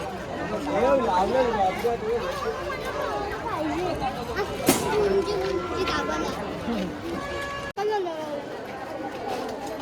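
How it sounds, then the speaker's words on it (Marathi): A busy village fair crowd hums with overlapping chatter and movement close by, steady throughout, as people nearby talk over the babble. "तिनेकडं गर्दी आहे"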